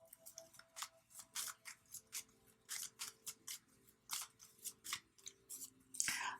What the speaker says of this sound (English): let's pull another card in that second house here for you.